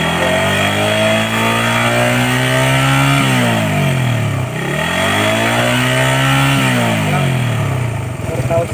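A Suzuki Raider 150 carbureted motorcycle engine revs hard and close, its pitch climbing, dipping briefly, then climbing again in sustained high-RPM pulls, with a person talking faintly under it.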